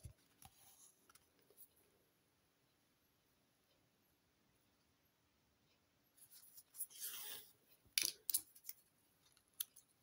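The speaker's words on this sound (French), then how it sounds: "Je suis obligée de couper mon fil parce que c'est trop loin." Small scissors snip embroidery thread during hand stitching, a few faint quiet clicks early on and then a cluster of closer, crisp cuts near the end.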